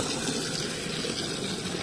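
Water gushes steadily into a storage tank through a pipe connection, a loud, continuous rushing hiss with no break and no voices.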